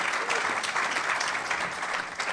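Seminar audience applauding steadily, a dense even patter of many hands clapping at moderate volume throughout, with no voices over it.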